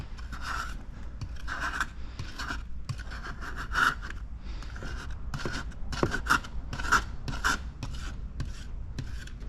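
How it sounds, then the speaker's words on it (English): A blade scrapes wetted window tint adhesive off the glass of a 2024 Toyota Corolla Cross in long, repeated rasping strokes, close and steady with slight gritty peaks. "let's go ahead and scrape this off"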